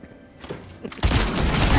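A shotgun blast fires in a Fortnite match, a sudden loud boom about halfway through following quieter thumps, then a dense, sustained burst of noise carrying to the end.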